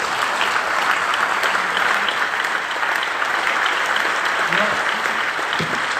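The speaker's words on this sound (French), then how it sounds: "On peut aussi l'applaudir très très fort." Crowd at the Fête de l'Huma in Paris applauding, a thick steady roar of clapping that runs throughout, with faint voices mixed underneath.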